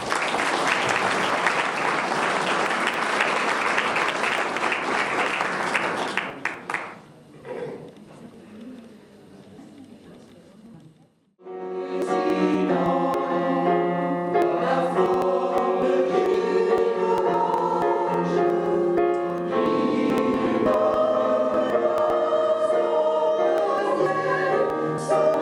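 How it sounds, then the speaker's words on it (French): Applause at an award ceremony for the Palmes Académiques knighthood: a dense burst of clapping from the audience, fading into a brief quiet lull before music begins. "Je crois qu'on peut l'applaudir."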